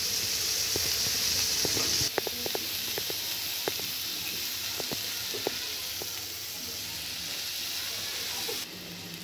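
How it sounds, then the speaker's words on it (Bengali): Onion and green chillies sizzle in hot oil in a pan, a steady frying hiss with scattered sharp crackles and pops, close and fairly loud, no voices. "ফোড়নে একটু পেঁয়াজ দিয়ে দেবো, লঙ্কা দিয়ে দিলাম।"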